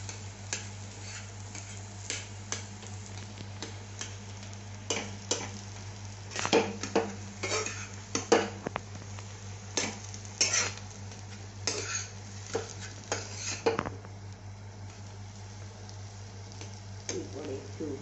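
Potato filling for aloo paratha being sautéed in a pan, a low sizzle under repeated scrapes and clinks of a spoon stirring against metal, close and moderately quiet with a constant background hum.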